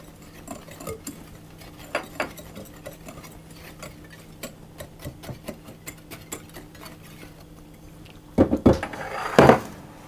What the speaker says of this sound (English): I'm going to put my lemon zest in as well at this stage. And I'm simply going to mix those around with a whisk.